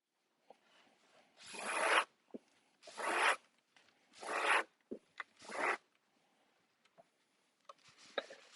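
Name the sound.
Danish cord being woven through a Moller chair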